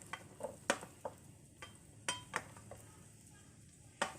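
Onions stir-frying in a pan over a high gas flame for Mumbai-style taka tak pasta, with a steady low sizzle beneath sharp, irregular clinks and scrapes of a spoon against the pan, close and fairly quiet, no voices.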